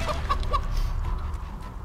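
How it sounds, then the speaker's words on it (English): A chicken clucks in the fantasy role-playing video game Divinity: Original Sin II, three or four quick close clucks at the start trailing into quieter ambient noise. "Did someone say cluck cluck chicken?"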